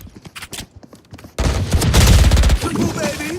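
Ares machine gun in Valorant, opening with scattered shots and then breaking into a loud, sustained burst of rapid automatic fire that tapers off.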